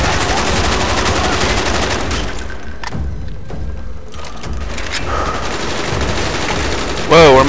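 Rapid automatic gunfire and explosions fill a Call of Duty Black Ops battle, continuous loud bursts that briefly thin out midway, with voices shouting over the combat.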